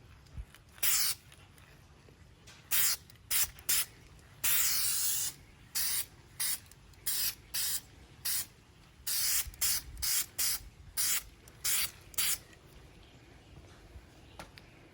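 A spray paint can applying light coats to the window molding of a 2007 Ford Ranger Sport, heard as many short hissing bursts in an irregular rhythm, close and fairly loud, with quiet gaps between them.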